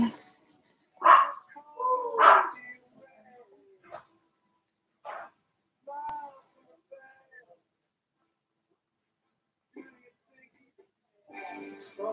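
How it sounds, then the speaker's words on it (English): A pet dog makes a few sharp barks and yips close by, then softer whimpers with quiet gaps, indoors during a home quarantine, with some talking near the end. "My dog."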